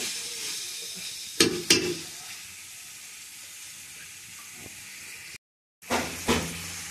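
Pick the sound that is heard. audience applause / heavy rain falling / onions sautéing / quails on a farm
onions sautéing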